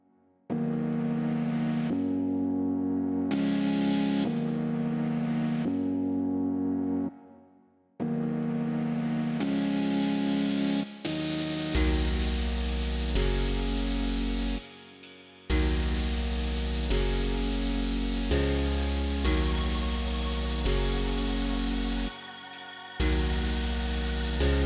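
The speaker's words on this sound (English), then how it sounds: "At this point, I switch back to the end mill to cut out the final shape of the plate." An end mill cuts out the shape of a metal frame plate with a loud, continuous grinding whine and metallic ringing. It runs in long stretches broken by brief pauses, with no voices.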